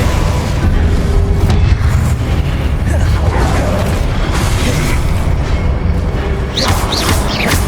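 Confringo blasting spell explosions in the Hogwarts Legacy video game, a dense run of loud booming blasts and crackling bursts layered with spell whooshes, continuous and intense, with a voice calling out spell names.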